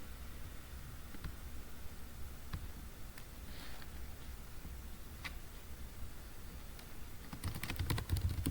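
Quiet typing on a computer keyboard while program code is entered: soft, scattered key clicks over a steady background hiss. The clicks grow into a quicker, denser run at the end.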